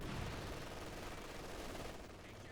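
Dense, continuous MG42 machine gun fire mixed with other gunfire rattles steadily for a couple of seconds in a World War II strategy game, loud and unbroken before easing slightly.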